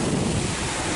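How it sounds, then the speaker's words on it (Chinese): A strong gust buffets the microphone outdoors in Central Park, New York, a loud continuous low rumble and roar lasting about a second, with no talk. "哇，好大风"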